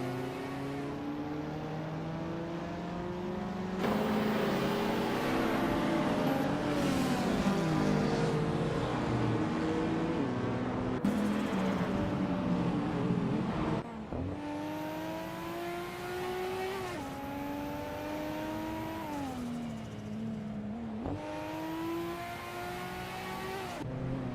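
Race cars rev in a racing video game, a loud, continuous engine whine that climbs and drops in pitch as the cars accelerate and shift, with no talking over it.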